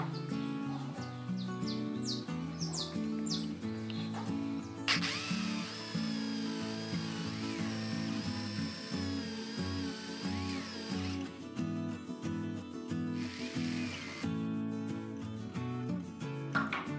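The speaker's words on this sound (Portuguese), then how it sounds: "utilizando a broca chata, eu vou abrir aqui um pequeno furo para esconder a cabeça do parafuso" A spade bit whines steadily as it bores a small hole in wood while a rustic bench is built. The drilling is continuous and fairly close, with brief pitch changes and faint chirps and scrapes in the background.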